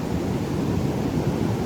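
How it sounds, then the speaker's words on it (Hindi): Floodwater rushes fast through a river during the Manali flood, a steady, loud, broadband roar with low rumble and no pauses, heard alone without any voices. "लुक एट द स्पीड, कितनी स्पीड में जा रहा है सारा पानी।"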